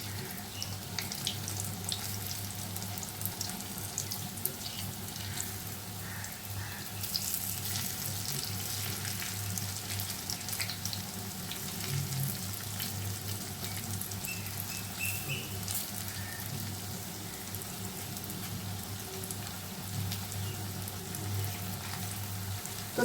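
Bhalla lentil fritters fry in hot oil over a medium flame, giving a steady, continuous bubbling sizzle close up with no talking over it.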